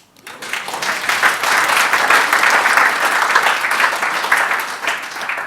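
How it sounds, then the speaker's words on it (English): An audience claps together in a sustained burst of applause, rising quickly and holding steady for several seconds at a fairly loud level, with no one talking over it. "Is that worth a clap?"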